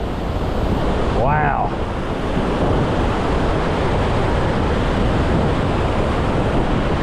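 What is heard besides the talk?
waterfall with water spray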